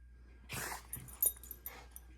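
A Yorkie puppy gives a few short, faint whimpers and yips in quick bursts, close by in a quiet indoor room, with soft breathy sounds between the bursts.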